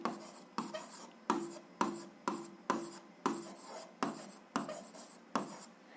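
Pen writing on paper during a seventh-grade algebra exercise, a series of about ten distinct close scratchy strokes at a steady rhythm, each starting sharply and fading, with no talking.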